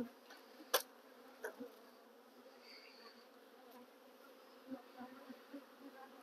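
Honey bees hum steadily as a hive is split into frames of brood, a faint, even buzz close by with a few sharp clicks and knocks scattered through it.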